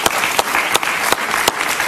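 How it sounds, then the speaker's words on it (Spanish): Studio audience applause on a Spanish-language political talk show, steady dense clapping for about two seconds with a few sharper claps standing out. "Me encantó, un aplauso para Antonio"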